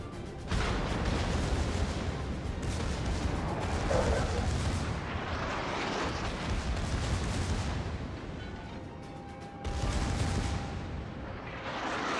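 Secondary guns on a French battleship firing in World of Warships, a dense, sustained barrage of booming rounds close by and loud, with a brief lull before another burst near the end.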